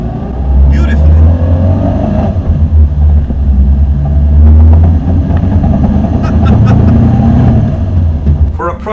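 A small Zastava 750 car drives along with a steady low engine drone and road rumble, close and loud throughout, with a person talking over it.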